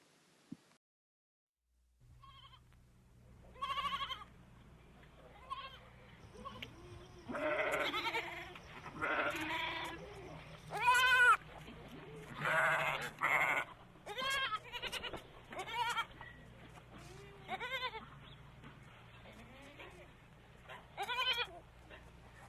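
Goats bleating in a series of short, wavering cries, close and fairly loud, coming in irregular bursts with quiet gaps between them.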